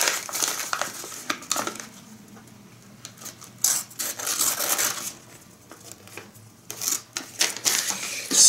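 Small 420HC stainless steel knife slicing through a sheet of paper, with irregular bursts of crisp scratching and crinkling separated by quieter pauses, close and alone.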